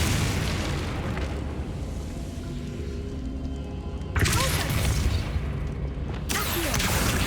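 Booming Confringo spell blasts in Hogwarts Legacy: a continuous rumble that breaks into two loud explosive bursts, each followed by crackling debris, with no talking.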